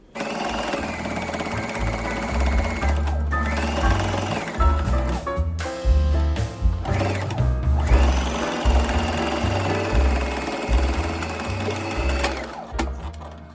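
A sewing machine stitches around the edge of a fabric crossbody bag in long, loud, close runs of fast rhythmic chattering, stopping briefly for repositioning before resuming.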